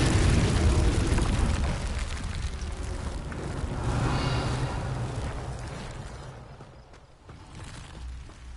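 A Confringo fire spell bursts in Hogwarts Legacy, a loud rumbling explosion with a bright crackle that swells midway, then fades into a lingering low roar with no talk.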